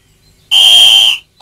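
One shrill, piercing whistle blast lasting under a second, loud and close, followed by the start of a second blow, at a children's sports event.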